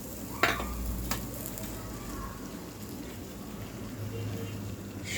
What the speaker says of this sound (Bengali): আমি প্রথমে কড়াইতে গুড়টা ঢেলে দিলাম